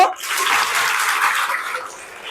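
School students applaud together at a girls' high school, a dense burst of rapid hand claps that swells and then thins out over about two seconds.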